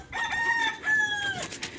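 A guineafowl gives a couple of short, loud, harmonic calls at close range as it is caught on a rooftop, with brief pauses between them.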